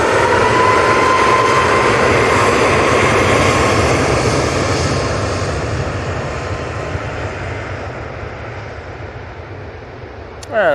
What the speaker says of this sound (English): Ryanair 737 MAX 8. It's got that winglet.